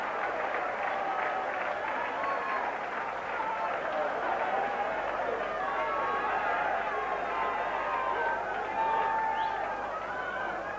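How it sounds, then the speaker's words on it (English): At the 1993 Darts World Championship, with Eric Bristow leading two sets to one, the crowd sends up a steady murmur of cheers and scattered clapping, a busy hall hubbub running throughout beneath a commentator's voice. "gets the crowd going"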